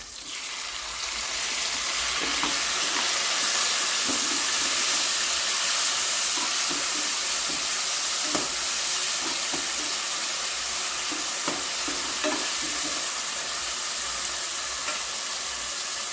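Tomatoes frying in a pan for a cowpea rice and dal dish, a steady loud sizzle and hiss with occasional light stirring clicks, close and continuous.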